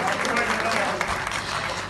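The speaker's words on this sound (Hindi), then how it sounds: "इनके लिए बहुत सारी तालियां।" Steady applause from an audience at an evening stage tribute honouring the legendary star Nisho, with dense clapping filling the whole moment and a voice partly mixed in.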